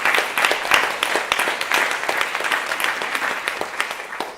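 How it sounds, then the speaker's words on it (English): Steady audience applause at a women-in-business event at a business school, dense clapping from a sizable crowd, moderately loud and sustained throughout without speech. "So let's all give them a round of applause."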